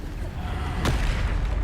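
A Bombarda blast spell goes off in the video game Hogwarts Legacy, a single short burst cutting through a steady bed of game noise and rumble.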